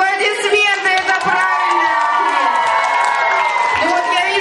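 Audience cheering and applause at a children's Mister and Miss pageant, a loud, steady crowd roar with shouts and whoops over dense clapping throughout.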